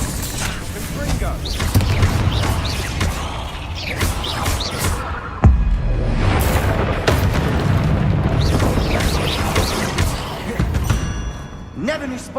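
In the Hogwarts Legacy video game, a Confringo spell explodes with a sharp, loud boom midway through, amid busy combat clatter and mechanical effects, with a voice speaking over the action.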